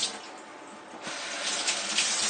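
Tap water runs steadily while an unripe banana is washed under it at a sink, a continuous close splashing stream that grows slightly louder and more broken partway through, with no voices.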